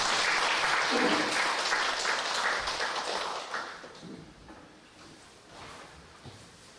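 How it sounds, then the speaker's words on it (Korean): A church congregation claps during a Sunday worship service, fairly strong at first and then thinning out to scattered faint claps and small bumps. "박수로 축하드립니다."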